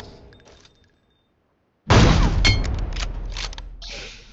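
Gunfire in the mobile battle royale game PUBG Mobile: after a short, quiet pause a sudden loud burst of rapid shots breaks out, followed by several more close, sharp volleys.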